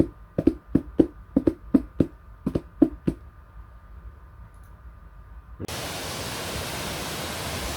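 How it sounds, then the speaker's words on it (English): A waterfall reached on a motorcycle trip near Stirling, heard as a sudden steady broadband roar of rushing water that starts after several sharp knocks or taps and then continues evenly. "Arrived at the waterfall"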